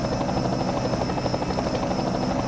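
Steady, dense helicopter rotor drone from a broadcast of a FAST Sport Stock Series race at Las Vegas, loud and continuous with a fast chopping pulse throughout and no talk over it.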